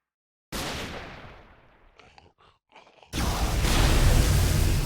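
Gunfire from hostile mobs in the Minecraft modpack Manufactio, a loud broadband burst of shots that fades into scattered quieter bangs and then returns as a sustained heavy barrage.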